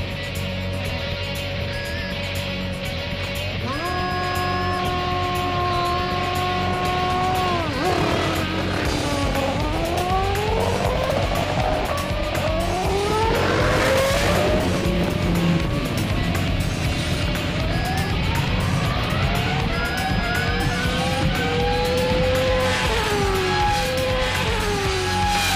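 Loud, sustained engine roar with rising pitch sweeps as a race car revs and accelerates hard on a drag strip, racing a bike and a boat, engines layered over one another with no talking.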